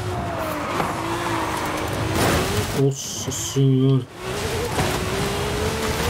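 A car crashes and skids in the racing game Forza Horizon 5 on Xbox Series S, with engine roar and squealing tires through the clip and a short burst of game tones midway, as a man exclaims over it.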